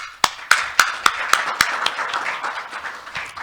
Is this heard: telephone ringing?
no